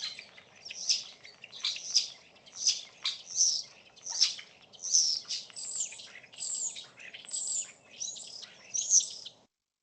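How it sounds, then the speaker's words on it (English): A starling sings a run of about a dozen bright, repeated chattering whistles in a steady rhythm, clear and fairly close over faint background hiss. "let's have a little listen to what a starling sounds like"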